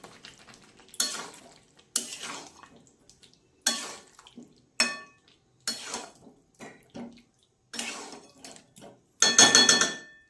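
A spoon stirs potato curry (alur dom) with ghee in a pan, giving about ten separate scraping, sizzling strokes with short pauses between, ending in a louder, busier burst.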